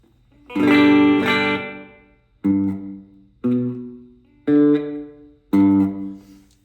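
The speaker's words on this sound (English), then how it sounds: "It gives it a little bit longer reverb on the sound there." Guitar notes played through a Donner Verb Square reverb pedal with the decay turned up: six loud, harmonically rich notes in a loose rhythm, each ending in a short, smooth reverb tail before the next begins.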